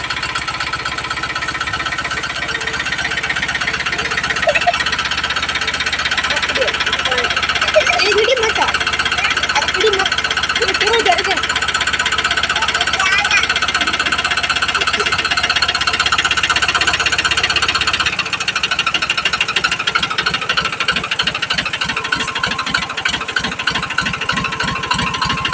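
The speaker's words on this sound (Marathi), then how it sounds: "आमचं पोरगी आता ट्रॅक्टरवर बसले बघा." A tractor engine runs steadily throughout with a rough, knocking mechanical drone, shifting to a harsher rhythmic idle near the end, while people talk and laugh over it.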